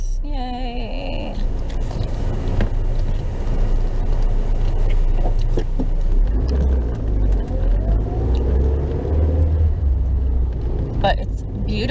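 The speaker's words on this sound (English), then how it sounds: "You can obviously tell there's tons of traffic" Busy road traffic on a sunny afternoon, a constant loud rumble of passing cars with engines revving and whirring close by, continuous throughout, with a person talking over it.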